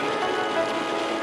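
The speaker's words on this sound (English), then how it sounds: "Oh my goodness, look at how rainy it is." Steady rain patters on a surface, a dense even hiss throughout this very short stretch.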